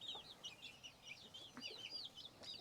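Young chicks peeping and clucking softly while pecking at kale and cucumber, a scatter of short chirps and chatter at close range with low background noise.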